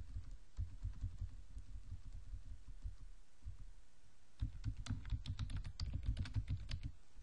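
Keys clatter on a computer keyboard in quick bursts while a username is typed, a short pause near the middle before the tapping picks up again, close and fairly quiet with no talking.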